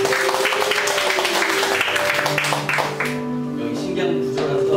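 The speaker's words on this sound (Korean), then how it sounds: "큰 박수로 환영하겠습니다" A Korean church congregation at a Sunday service in Turkey claps to welcome its pastor, a steady broad applause mixed with sustained instrumental music tones that continue as the clapping thins toward the end.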